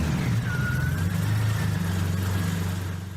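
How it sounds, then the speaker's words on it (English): A BMW 850's V12 idles smoothly with a steady, even low hum and a faint whine above it, close and continuous, with no talk. "The V12 is a very stable engine, it runs very smoothly"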